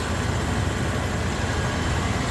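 A truck engine with a slightly sticking throttle idles steadily with a low rumbling drone, close and constant, no voices.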